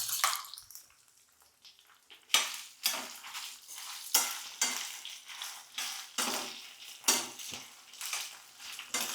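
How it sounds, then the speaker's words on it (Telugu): Dried red chillies fry in hot tempering oil for a gongura chutney. Repeated bursts of sizzling come with the scrape and clink of a spoon stirring in the pan, close up and with no talking. "ఇప్పుడు ఎండుమిరపకాయలు వేసుకుంటున్నాను"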